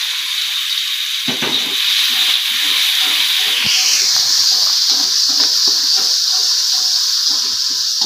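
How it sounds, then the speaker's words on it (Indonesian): Shallots, garlic and chili sizzle and hiss in hot oil, a steady bright frying sound that swells partway through, with no talking. "bumbunya bawang merah bawang putih cabe saya tumis dulu ya"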